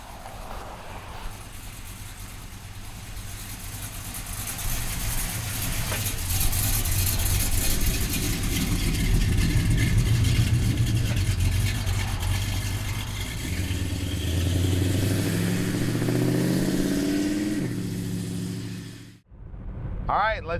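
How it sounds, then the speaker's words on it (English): A red 1967 Chevrolet Chevelle convertible's engine rumbles steadily while driving, with a strong low drone that swells as it accelerates through gears, alongside wind noise, before a sudden cut near the end. "Now let's go outside and drive this convertible."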